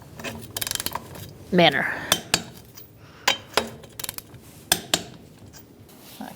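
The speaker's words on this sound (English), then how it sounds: "Using a 21mm socket, we're going to torque our wheels to 80 foot-pounds" A torque wrench with a 21mm socket tightens wheel lug nuts on a 2012-2017 Hyundai Accent, giving scattered sharp mechanical clicks and ratcheting snaps up close, with a brief voice between them.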